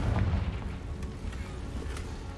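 Confringo fire-blast spell cast in the video game Hogwarts Legacy, a muffled rumbling boom with several quieter crackling bursts over a continuous low roar.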